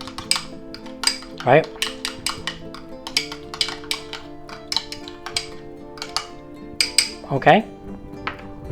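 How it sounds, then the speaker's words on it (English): Utensil clinking and scraping against a bowl while Dijon mustard is mixed into mayonnaise, in quick irregular taps across the clip, close and moderately loud, with a person speaking briefly twice. "now we're just going to mix that up"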